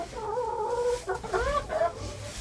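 Hens in a chicken coop cluck close by in short, overlapping bursts of squawky calls, with faint rustling beneath.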